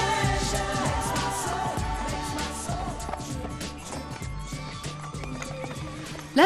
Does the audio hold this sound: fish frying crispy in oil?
no